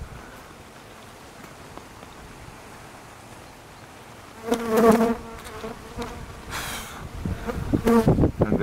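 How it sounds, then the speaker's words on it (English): Honeybees buzz close by, flying in and out of a hive, with a steady hum rising in bursts over quiet background noise, swelling louder toward the end. "Bees are still busily flying in and out."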